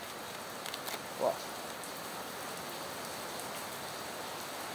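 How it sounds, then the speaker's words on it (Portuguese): Steady broadband rain hiss, heavy rain falling outdoors near a forge, continuous and fairly loud throughout with a brief faint knock early on. "Aí dá um pouquinho de barulho de chuva,"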